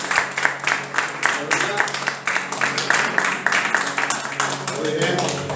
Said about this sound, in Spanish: Le damos un aplauso a Jesús.